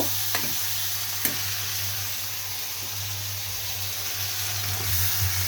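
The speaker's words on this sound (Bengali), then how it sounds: "আমি এবার জল দিয়ে দেব" Water hits a pan of frying bottle gourd and broad bean curry, giving a steady, close sizzling hiss with a few faint clinks, and no voices.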